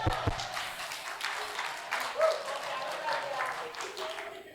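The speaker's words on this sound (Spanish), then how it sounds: "Aplausos, hermanos." A church congregation claps and applauds steadily, with scattered cheers and voices mixed in, moderately loud in a large room.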